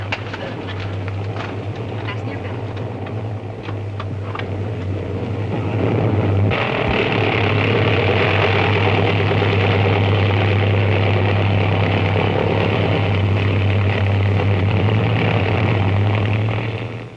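A propeller airplane engine drones steadily in flight inside the cabin. The low hum swells louder partway through and stays constant.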